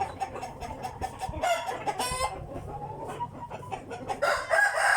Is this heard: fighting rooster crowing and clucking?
yes